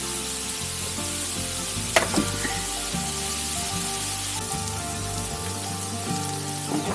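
Roast pork and red onions sauté in apple cider vinegar in a pan, a steady close sizzle with a few stirring knocks and scrapes, no voices.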